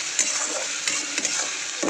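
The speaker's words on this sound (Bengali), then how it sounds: "এটা ভালো করে একটু নাড়াচাড়া করে নিলাম যাতে রসুনের গন্ধটা চলে যায়" Tomato, onion and garlic paste fries in a pan while being stirred, giving a constant bright sizzle with spoon scrapes and clicks at irregular moments, close and with no voices.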